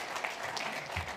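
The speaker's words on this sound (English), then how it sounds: "How about a big round of applause for our MC today?" Applause at an annual membership meeting, greeting the emcee with a steady wash of clapping from an indoor crowd, fairly even throughout with no speech over it.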